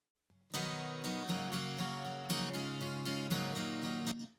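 Strummed acoustic guitar chords play alone in a steady rhythm, bright and even, with gentle leveling of the louder strums from an 1176-style compressor on a subtle setting.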